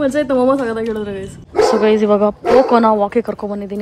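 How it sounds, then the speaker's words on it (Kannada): A dog barks and yips in short bursts, mixed in with a person talking over it at close range. "ಪಕ್ಕದ ಮನೆ ನಾಯಿ ಬೊಗಳ್ತಾ ಇದೆ"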